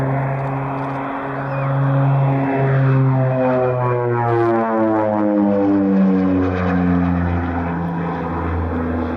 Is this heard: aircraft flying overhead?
yes